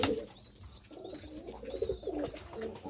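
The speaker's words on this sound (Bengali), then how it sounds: "দেখেন পায়রাটা ডাকতেছে শুনতে পাচ্ছেন কিনা আপনারা" A pigeon newly bought at a market coos in repeated soft, throaty phrases, fairly close but faint, with a little flock rustle around it and no talking.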